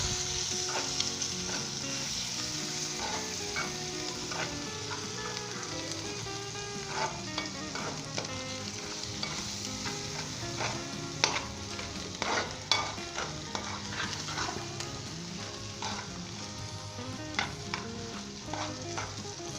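Achari pulao mixture sizzling steadily in a pot, with a spoon scraping and stirring through it in repeated irregular strokes; no talk.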